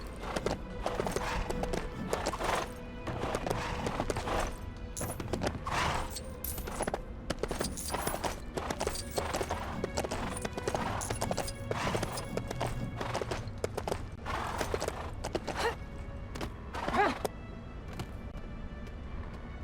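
Horse hooves clip-clop in the LEGO The Hobbit video game, a brisk, steady run of hoof beats that goes on throughout over a busy game soundscape.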